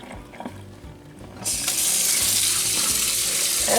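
Water runs from a kitchen tap into the sink as beans are rinsed, a steady broadband rush starting abruptly and continuing loud and close after a quieter stretch of faint clatter.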